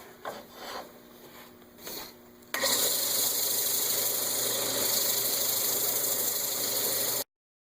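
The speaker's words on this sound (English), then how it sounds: "I'm going to switch to sanding" A few soft scraping rubs, then a steady, loud abrasive whir of power sanding on a silver maple natural edge bowl runs for several seconds before cutting off abruptly.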